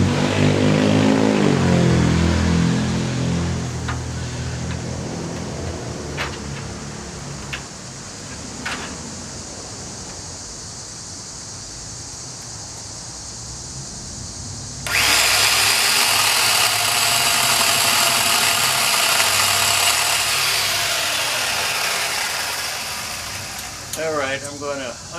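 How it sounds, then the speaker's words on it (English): A small electric chainsaw cuts into a tree branch, its steady motor whine running continuously and rising into a louder, harsher cutting tone partway through, close to the listener. "I've got my little electric chainsaw, and let's get up here and see what we can do."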